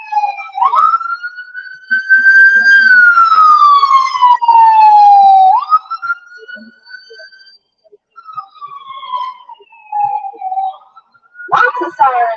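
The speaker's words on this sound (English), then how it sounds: "Lots of sirens tonight" Police sirens wail and sweep in pitch as emergency vehicles pass near an intersection at Greenmount and 33rd, loud and close, fading out before another short siren burst at the end.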